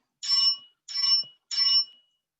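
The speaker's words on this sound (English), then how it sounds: "I ring bell before remaining time become 1 minute" A timer bell at a meeting rings three times in an even rhythm, each ring bright and sharp with a short decay, loud and close, with silence between rings and no talk.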